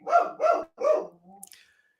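A dog barks three times in quick succession indoors, close and fairly loud, followed by a softer short whine or yip at the end.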